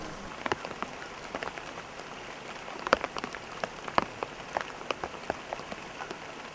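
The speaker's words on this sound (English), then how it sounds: "It just started raining." Rain begins falling in an outdoor setting, scattered drops pattering and tapping on surfaces in irregular bursts over a soft steady hiss, fairly quiet and close.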